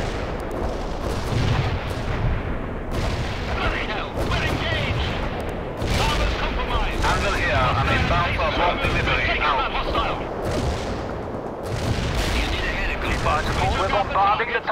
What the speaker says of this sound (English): bombarding the target area.